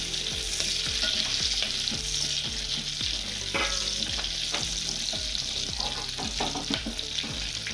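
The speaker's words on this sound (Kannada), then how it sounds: "ಚೆನ್ನಾಗಿ ಫ್ರೈ ಆದಾಗ ಒಂದು 4 ಮೆಣಸಿನ್ಕಾಯಿನ ಹಾಕಬೇಕು" Dried red chillies and cashews frying in a pan give a dense, continuous sizzle with a low rhythmic knocking and sharp utensil clinks scattered over the top.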